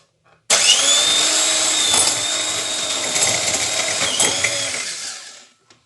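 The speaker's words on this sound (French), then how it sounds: "Le batteur, elle a ramassé tout le beurre." Electric hand mixer beating butter for a simple Christmas log cake, one continuous high whirring run of about five seconds, close and steady, starting and stopping abruptly.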